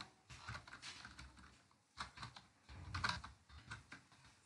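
Someone typing a C program on a computer keyboard, close and quiet, in bursts of rapid key clicks separated by short pauses.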